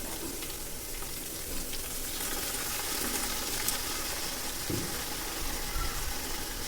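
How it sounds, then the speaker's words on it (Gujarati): Chopped tomatoes go into a hot tempering of chillies and curry leaves, a soft continuous sizzle and crackle of oil sounding close and steady throughout with faint stirring. "મરચાં ને લીમડું મસ્ત હળહળી ગયું હવે ટમેટા નાખી દઈએ"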